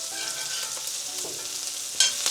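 Onions frying in a stir-fry pan give a steady, close sizzle that runs throughout, with a brief louder spit and clatter near the end.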